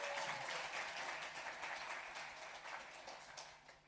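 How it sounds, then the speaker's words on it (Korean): A church congregation at Sunday worship applauds to welcome a visiting pastor, a dense, steady wash of many hands clapping that is faint and slightly distant and slowly fades toward the end. "우리 최진영 목사님 또 박수로 먼저 뜨겁게 한번 환영할까요?"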